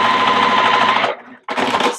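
Sewing machine stitching a quarter-inch seam on a quilt block, a steady close whir for about a second that stops, then starts up again.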